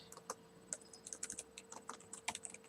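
A file name is typed on a computer keyboard in a quick, uneven run of light key taps with brief pauses, close-miked and quiet, with no voices.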